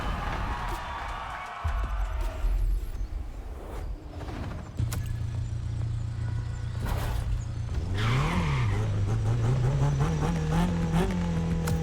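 Cars racing and drifting in The Crew Motorfest game, with steady engine drones, rising and falling revs and a broadband wash of tire and crowd noise, loud and continuous.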